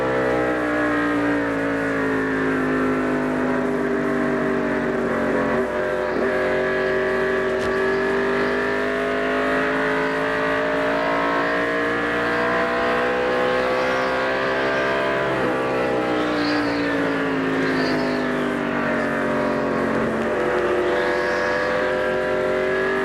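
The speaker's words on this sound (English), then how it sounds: "Interesting to hear the places that Dale gets off the accelerator and onto the brake" A 1988 NASCAR stock car engine roars steadily from an in-car camera at Phoenix during the Checker 500, its pitch rising and falling as the driver lifts off for braking and gets back on the throttle through traffic.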